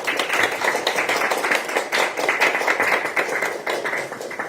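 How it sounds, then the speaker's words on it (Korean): A crowd at a Seoul election campaign event claps in support of a district mayoral candidate, loud, dense and steady applause that holds throughout without letting up. "여기 계신 분들께 이동연 후보를 응원하는 박수를 부탁드립니다"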